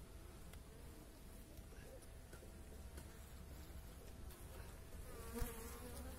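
Honey bees buzz steadily around an opened beehive in early spring, a low dense hum with occasional closer buzzing passes and soft handling knocks.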